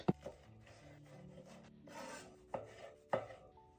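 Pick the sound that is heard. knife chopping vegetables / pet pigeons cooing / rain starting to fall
knife chopping vegetables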